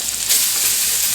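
Onions dropped into a hot pan with browned pork steak drippings sizzle loudly and steadily, a close, continuous hiss of frying with no talking.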